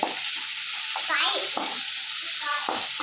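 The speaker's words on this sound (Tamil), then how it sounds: "இப்போ எல்லாத்தையுமே நல்லா வதக்கிக்கலாம்" Vegetables sautéing in a hot pan give a loud, continuous sizzle, with scraping stirs now and then and brief voices in the background.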